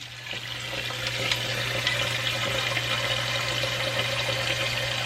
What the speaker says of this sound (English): I'm going to put the water about half above the meat.